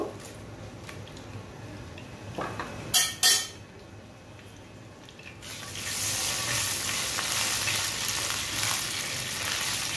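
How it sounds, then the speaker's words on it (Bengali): Dry red chili frying in oil, a low crackle at first, a couple of sharp pan knocks around three seconds, then the sizzle swells and stays loud to the end. "আমি এখানে আস্তে আস্তে প্রথমে শুকনো মরিচটা একটু বেজে নিব"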